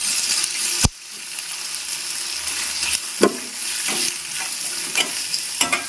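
Onions sautéing in a pan for a pepper meat fry make a close, steady sizzle, and a spatula scrapes and clicks against the pan several times. No one speaks.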